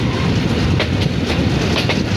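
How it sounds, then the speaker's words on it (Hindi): A Rawalpindi-to-Multan morning passenger train pulling out of Wah railway station, its steady loud rumble of wheels on rails running continuously with faint clickety-clack rhythm. "ट्रेन चल पड़ी है।"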